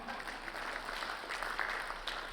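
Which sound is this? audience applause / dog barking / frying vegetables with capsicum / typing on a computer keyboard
audience applause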